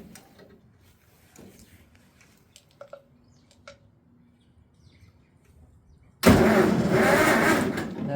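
A Farmall 400 tractor engine cranks during a spark test, following several quiet seconds with small clicks and faint birds; then a loud, close, sustained rough churning of the cranking starter bursts in and runs to the end.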